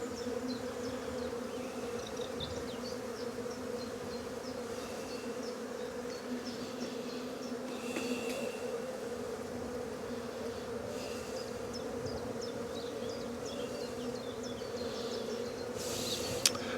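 Honey bees from a freshly collected swarm buzz steadily on a hive frame where they are drawing out new comb, a dense continuous hum with many individual insects close by and no talk.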